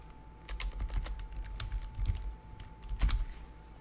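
The name Flashlight is typed on a computer keyboard, a quick run of close, crisp key clicks with a faint steady hum behind, and no talking.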